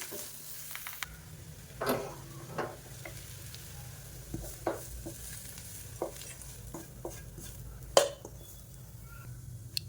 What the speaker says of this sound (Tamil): இப்போ இந்த தாளிப்பு எடுத்து நம்ம அப்படியே மாவில் கொட்டிடலாம்.